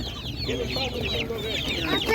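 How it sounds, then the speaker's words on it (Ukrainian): Hens cluck and squawk close up in caged pens at a village animal market, a dense run of rising, overlapping calls with little pause, loud and continuous. "Так, ось такі курочки."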